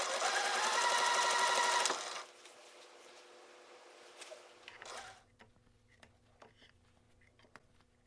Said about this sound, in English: put right sides together, sew 1/4 inch, so 1/4 inch all the way down until I have 6 2 patches